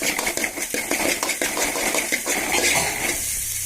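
A metal spoon stirs and scrapes egg bhurji in a pan with rapid, repeated clinks and scrapes, close and clear, while faint sizzling runs underneath.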